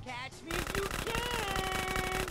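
Rapid gunfire from enemies in a shootout in GTA San Andreas, a dense rattling burst that starts abruptly and holds loud and steady over game sound.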